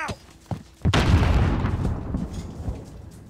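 A grenade explodes in Call of Duty: Modern Warfare, a sudden loud boom after a few faint clicks, followed by a long rumbling decay of debris and echo that fades over several seconds.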